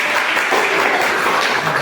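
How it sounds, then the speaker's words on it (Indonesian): A short burst of applause from a small university class, steady clapping close by with no talking. "Tepuk tangan untuk Ahmad ya"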